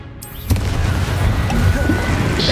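A Confringo explosive spell blast in Hogwarts Legacy hits with a loud, sudden boom, followed by crackling, rumbling debris and noise that hold at full volume for a couple of seconds.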